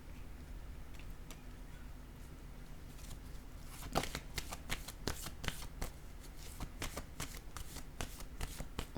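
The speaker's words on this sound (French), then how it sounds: "Là, je vais déposer une carte pour ces trois-là." Tarot cards being handled and laid down on a table: soft papery slides and a run of quick light snaps and taps, quiet and close, with no voice over them.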